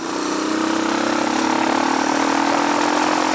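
A dirt bike's internal combustion engine runs steadily at a fast idle on a cold day after a hard start, loud, close and continuous with a constant buzzing drone and no talking.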